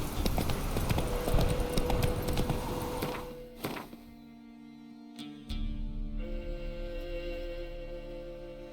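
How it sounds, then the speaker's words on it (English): A horse gallops in The Witcher 3 with loud, rapid, rhythmic hoofbeats for about three seconds, then slows to a few scattered thuds and stops amid ambient game sounds. "Run, Roach."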